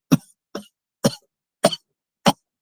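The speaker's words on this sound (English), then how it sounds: "I can hear a cough" Five short, sharp coughs spaced about half a second apart, close and clear, with silence between them and no talking.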